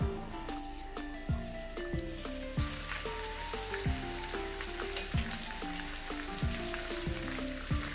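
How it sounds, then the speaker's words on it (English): Oil sizzles and crackles steadily as fish pieces shallow fry in a pan, with soft clinks and taps repeating under a bright layer of music. "Add a little more oil, just enough to fry the fish, and start dropping in the fish pieces"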